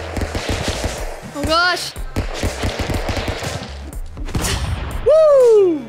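Stick Fight: The Game gunfire, with rapid bursts of sharp shots crackling in quick succession, interspersed with brief gaps, alongside whooshing effects and someone's brief exclamation.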